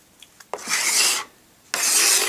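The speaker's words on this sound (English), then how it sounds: "You can either scrape it to yourself, away from you, or you can scrape it towards you." A plastic scraper rasps across a snowboard base during home base repair, two long scraping strokes after a few light taps, close and fairly loud with a pause between them.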